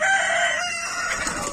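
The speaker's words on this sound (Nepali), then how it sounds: "ल हेर्नुहोस्, यस्तो खालको भाले पोथीहरू छ" Local village roosters and hens in a hatchery setting, one rooster crowing a loud, sustained, close crow that fills the short clip, with no talking.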